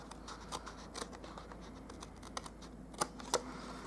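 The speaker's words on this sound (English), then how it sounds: "I'll just give it a quick little trim" Scissors trimming paper edges on a stamped gift box, a run of quiet snips and light scratchy cuts with two sharper closer clicks near the end, no talking.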